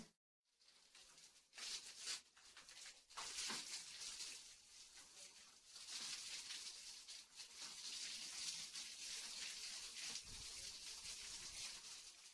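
Steady broadband rush of water spraying hard from a hose onto a building parapet under construction, sprayed from inside, continuous and close, with brief dips at the start before settling into a constant gush.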